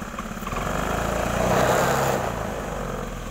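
Honda Beat scooter engine running close by, a steady idle that swells as the throttle is opened, then settles back down.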